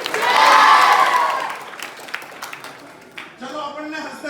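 A crowd at a helmet-safety gathering bursts into a loud, swelling cheer with shouting, then settles into scattered clapping and voices before another burst of cheering.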